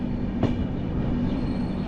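A train rolls into the station at Lalkuan at the end of a long rail journey, giving a steady, loud rumble of wheels and carriages with a brief sharper knock early on and no voices.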